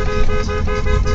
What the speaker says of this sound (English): People are honking at us.